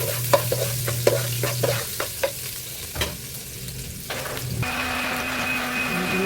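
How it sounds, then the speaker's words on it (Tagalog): Garlic sautéing in a pan for sweet and sour shrimp, a close hissing sizzle with several quick spatula taps early on, then the sizzle swells louder and brighter near the end. "Magigisa na tayo ng bawang."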